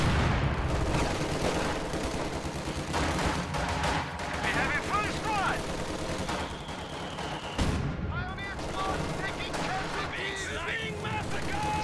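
Rapid machine-gun bursts and sharp sniper shots crack through a World War II strategy game battle featuring an MG42, dense and continuous under an excited commentator's voice.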